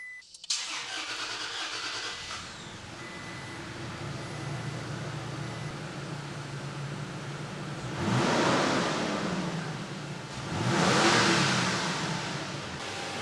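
A Toyota Tacoma pickup damaged by mice cranks and fires up, then settles into a steady idle heard close by, with two brief revs swelling later on.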